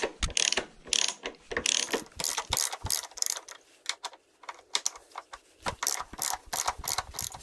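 A ratchet wrench clicks rapidly while backing out passenger foot peg bolts on a BMW F750GS motorcycle, close, bright bursts of ratcheting with short pauses between runs.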